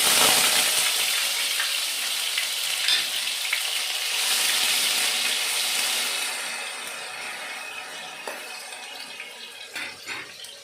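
Ginger garlic paste frying in very hot oil, giving a loud, steady sizzle with hissing spray. The sizzle fades somewhat toward the end and is broken by a few faint clinks.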